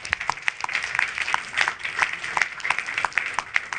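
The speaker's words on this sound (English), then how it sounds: "Round of applause." Audience applause for six finalists at a patient-technology challenge event, a steady patter of claps at moderate level with no talk over it.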